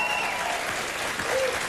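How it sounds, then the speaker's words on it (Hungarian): A television studio audience applauds and roars, a loud, steady wash of clapping and cheering filling the whole moment without break. "Nagyobb az ordítás, mint eddig."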